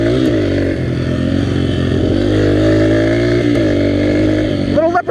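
A Yamaha TTR125 dirt bike engine runs steadily and loud up close, with a buzzing single-cylinder drone that dips briefly and rises again, then breaks off near the end as a voice cuts in.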